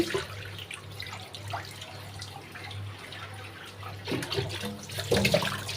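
Tap water running over a large goat leg being washed, a steady close splashing stream with occasional louder splatters and handling noises toward the end, no speech.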